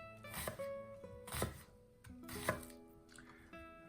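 A knife chops through potato on a cutting board in a few separate, sharp strikes spaced about a second apart, with faint ringing hum in the background.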